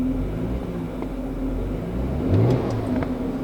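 A VW Passat B5.5 with a 30-valve V6, 4Motion and a slipping automatic transmission revs at a fairly loud, steady drone, with a brief rise in engine pitch near the end.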